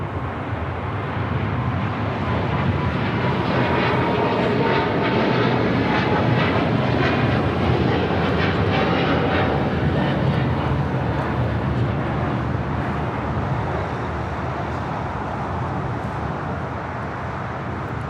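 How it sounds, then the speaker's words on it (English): A China Eastern Airlines Boeing 777-300ER takes off at LAX, its heavy jet roar loud and sustained for the whole stretch, a broad rumble that holds steady as the widebody climbs away. "This is China Eastern Airlines 586 taking off to Shanghai on a 777-300ER."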